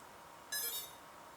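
A Yuneec Typhoon G drone's ESC gives a single short electronic beep with a high, bright tone during motor assignment, moderately loud over a quiet background hiss.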